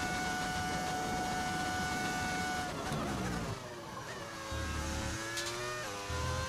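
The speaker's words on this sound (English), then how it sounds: "that is the beauty of the V10 engine" Simulated Formula 1 car with a V10 engine in the racing game F1 25 at Spa, its high-pitched engine note holding steady, then dropping and rising again through gear changes and revs, loud and continuous with no talk.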